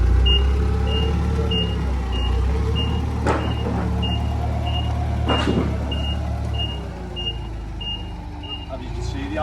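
Steady reversing beeps from a forklift repeat at an even pace over a loud, continuous engine rumble, with a couple of sharp clanks partway through.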